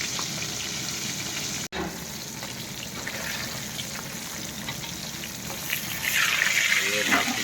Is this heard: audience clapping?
no